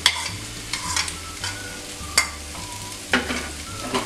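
A spoon scrapes and stirs boiled, mashed potatoes with spices in a pan over a medium flame for samosa filling. Roughly a dozen strokes come in an uneven rhythm over a soft, continuous frying hiss and a low hum, with no voices.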